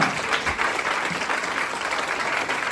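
A crowd at a Hindi motivational gathering breaks into steady applause, a dense, even wash of many hands clapping at moderate volume that carries on without pause and with no talk over it.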